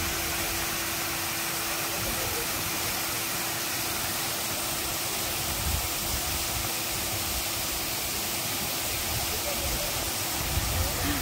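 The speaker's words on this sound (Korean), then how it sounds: "물소리 듣고 춥다 했는데" A mountain stream in the Gangcheonsan valley on a clear autumn day pours in a continuous, dense hiss of rushing water, steady and fairly loud throughout with no breaks, and a constant low hum running beneath it.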